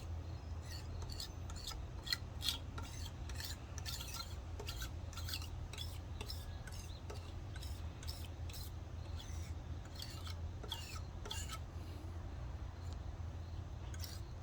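Old gasket residue is scraped off an intake manifold, a continuous faint rasping scrape made of rapid repeated strokes held steady throughout, close by and with no speech.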